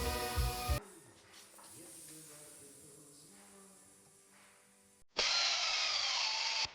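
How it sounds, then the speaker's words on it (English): Holes being drilled in the aluminium skin of a Van's RV-12 aircraft fuselage kit, with a loud burst of drilling at the start and another at the end, separated by a quieter stretch of workshop noise. "we're going to remove the center section from the skin and place it down flat so it'll be much easier to drill the rest of the holes"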